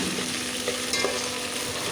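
Hand-pounded ginger garlic paste fries in hot oil with onions that have turned golden, a steady close sizzle with faint stirring scrapes and no talking.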